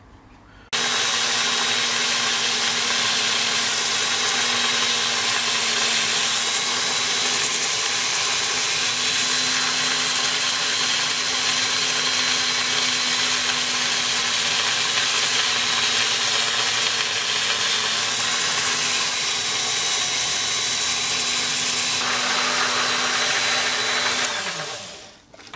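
Drill boring a hole in cast silver jewelry, a loud continuous high whine with a steady motor tone held for over twenty seconds before winding down.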